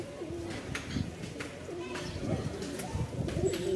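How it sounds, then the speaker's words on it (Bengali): Pigeons coo in low, throaty rolls, repeating steadily at close range with a faint background murmur. "দুই জোড়া কবুতর কেউ একসাথে নিলে দাম পড়বে পনেরোশো টাকা"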